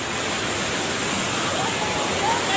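A swollen river rushes during heavy flooding rain in Manang, Nepal, a steady, loud broadband roar of churning water filling the whole clip without pause.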